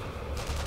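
A brief burst of gunfire from the World War II shooter Sniper Elite 3 cracks out loudly and close, a couple of sharp reports packed into under a second.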